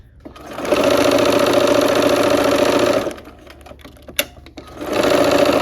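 A sewing machine stitches quilt strips in a fast, buzzing run of close stitching that stops abruptly. After a short pause with a small click, it starts up again.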